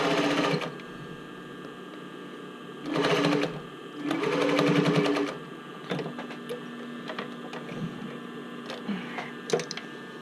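A sewing machine stitches a band onto a swim top in short bursts, two longer runs of rapid mechanical whirring separated by quiet pauses, close up, with small handling clicks and rustles of fabric between.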